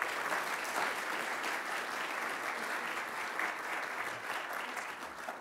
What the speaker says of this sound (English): please give a round of applause to Lieutenant Colonel Bob Kay and Ellie Kay